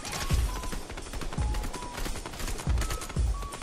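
Video game gunfire in Fortnite, several short bursts of shots at a moderate level, spaced irregularly over a few seconds with no talking.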